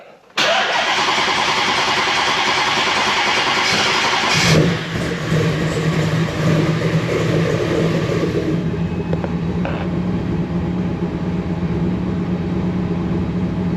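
A fuel-injected car engine cranks and catches, revs briefly, then settles into a loud, steady close-up idle.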